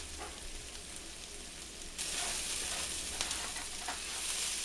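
Food for apple stuffed pork chops cooks down in a hot pan, a steady hissing sizzle that swells louder and brighter partway through and keeps crackling close by.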